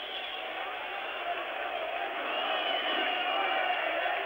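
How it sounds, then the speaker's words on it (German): Crowd cheering in an arena at an ice hockey world championship game between Czechoslovakia and Sweden, a continuous distant roar that builds slightly, with a commentator talking over it. "Nein, dieser Jubel kommt verfrüht"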